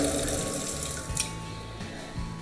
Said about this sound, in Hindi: आपका वॉशिंग एरिया है, आपके सिंक इसमें ऑलरेडी है, जैसे कि पानी भी आ रहा है